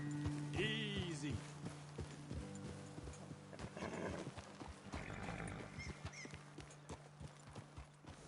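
Horses in the video game Red Dead Redemption 2, with a neigh near the start followed by clip-clopping hooves at walking pace, mixed with background game ambience.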